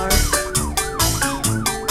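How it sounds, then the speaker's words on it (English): A police car siren wails in a fast repeating up-and-down pattern, loud and close, several quick cycles with no voices. "Police car."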